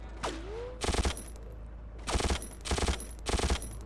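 Automatic gunfire in the video game Mortyr, four short, loud rattling bursts in an irregular rhythm, preceded by a swooping whistle-like tone, over a low background drone.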